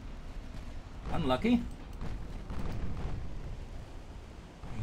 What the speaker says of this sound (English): there comes another torpedo attack as the Shimikaze goes down